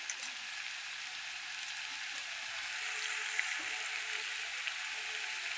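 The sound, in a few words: masala frying in oil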